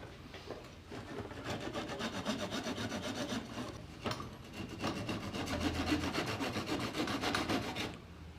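A hand saw rubs back and forth through excess wood on a joinery workpiece, with steady rasping strokes close up and no talking throughout.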